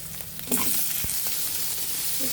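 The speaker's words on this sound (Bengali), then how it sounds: "এখন আমরা টমেটো কুচিগুলো এর মধ্যে দিয়ে দিব।" Chopped tomatoes go into frying onions in a pan for an egg and onion-greens curry; a loud, continuous sizzle swells as they land, with a sharp knock and light stirring scrapes.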